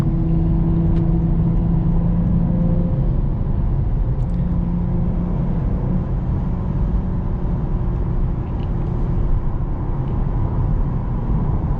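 A 2024 Lexus IS 350 F-Sport engine drones steadily through a downshift, a loud continuous low hum with tonal bands that hold and shift slightly, heard from inside the car with no talk.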